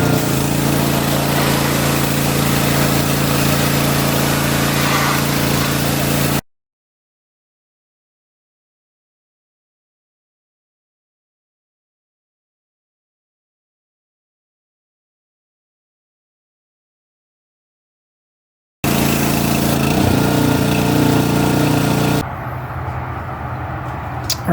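A power washer runs steadily as grease is blasted off an MTD garden tractor, a loud continuous motor drone that cuts out to silence for a long stretch, then resumes before dropping to a quieter hum.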